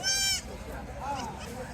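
At a busy goat market in Chalisgaon, a goat gives one short, close bleat at the start, followed by crowd murmur and people talking.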